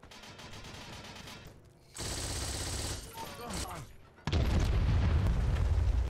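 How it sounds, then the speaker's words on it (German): Rapid machine gun fire and booming battle noise in the World War II shooter Heroes & Generals, dense continuous bursts swelling louder toward the end. "Also jetzt auf Entfernung mit dem MG zu schießen, schwierig."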